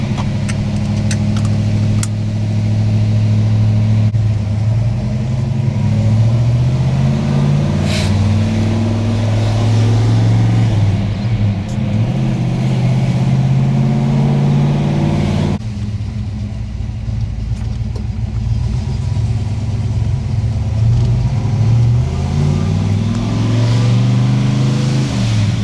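A 1968 Chevrolet Chevelle SS 396 V8 revving and accelerating hard, loud and close, with engine rumble climbing through repeated rising pitch sweeps as it pulls through gears, briefly easing before building again.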